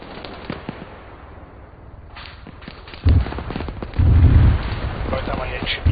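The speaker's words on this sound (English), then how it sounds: "We're receiving heavy fire from the south." Gunfire and artillery in the military shooter Squad: quiet background at first, then heavy distant booms and bursts of shots from about three seconds on, with radio-style voices talking over the battle.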